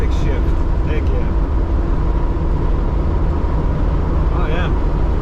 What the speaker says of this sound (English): I'm very happy with the way this Jeep is driving now